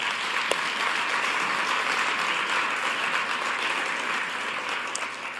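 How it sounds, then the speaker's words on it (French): Steady applause from a sizable audience at a twitterature contest awards ceremony, an even wash of clapping that holds for several seconds without pause. "Alors, on peut l'applaudir."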